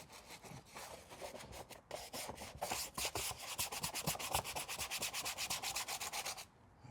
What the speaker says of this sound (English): We just got this thing all scrubbed out, and you guys can see we really got into all those little grooves, the nooks and crannies